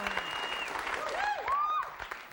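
Studio audience applause at a live comedy show, dense steady clapping from the crowd with whistles rising and falling over it, fading slightly toward the end.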